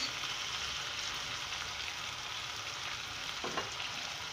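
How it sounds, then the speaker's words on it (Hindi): Ground coriander, turmeric and red chilli powder frying with onions in a pan, giving a steady, close hiss of sizzling oil throughout with a faint stir near the end. "और अब इसमें मैं ये मसाले डालूंगी, पाउडर मसाले, पिसा हुआ धनिया, हल्दी और पिसी हुई लाल मिर्च"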